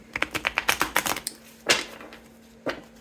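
A quick run of crisp flicks and riffles of tarot cards being shuffled, followed by two sharper slaps after a pause; close and fairly quiet.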